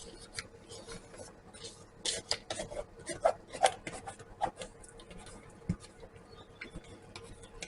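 A small scraper rasps and scrapes BBQ pork sauce out of a pressure-canning pot, a run of short, close, irregular scratchy strokes with no talking.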